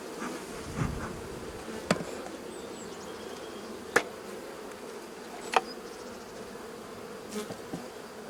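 Honeybee swarm in a small five-frame nucleus hive with brood frames, giving a steady low buzzing hum throughout, with a few sharp knocks and taps standing out against it.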